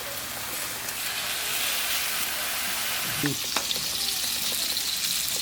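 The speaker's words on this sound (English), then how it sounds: "that sear sound is nice to hear" Steady, loud sizzling and crackling of steak searing in a hot pan, with a few soft clinks partway through.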